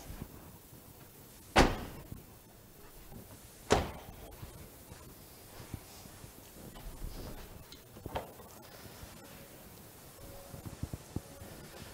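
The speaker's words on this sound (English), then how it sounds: "A particular favourite of mine are the style doors, which allow for easy access to the rear seats." The rear-hinged doors of a Mazda MX-30 are opened and closed, giving two solid, close thuds a couple of seconds apart. Fainter clicks and handling noises follow in a quiet space.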